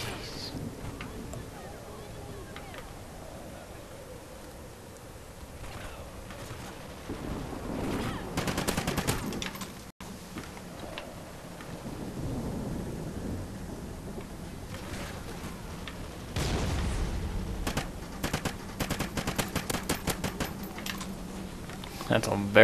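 Call of Duty Ghosts team deathmatch on the Overlord map, with bursts of rapid gunfire rattling through a steady game din, strongest in the middle and toward the end, while players talk over it.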